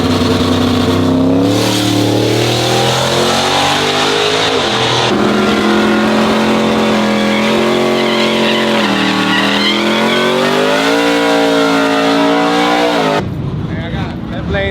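A modified LSX-swapped truck at a truck fest revs hard and loud, pitch climbing and falling through repeated bursts for most of the span before cutting off abruptly near the end.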